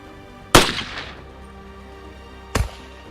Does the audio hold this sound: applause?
no